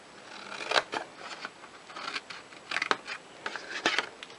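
Paper craft pieces for a Stampin' Up! project being cut out with scissors, a series of short crisp snips at an uneven pace, close and quiet, with no speech.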